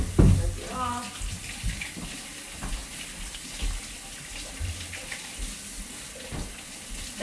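Tap water runs steadily while red peppers are rinsed under it, a close splashing stream with a loud gush at the start and clattering handling throughout.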